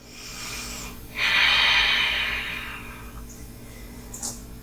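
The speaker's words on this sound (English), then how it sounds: "Notice the sound of your breath." Close, audible breathing: a soft inhale followed by a longer, airy exhale, with a quick sniff near the end.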